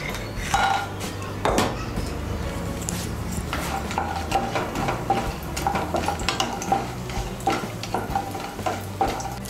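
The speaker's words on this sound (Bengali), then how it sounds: "প্রথমে আমি বড়িগুলো ভেজে নেব।" Lentil bori frying in mustard oil in a pan, with a steady sizzle under repeated clinks and scrapes of a utensil stirring against the metal.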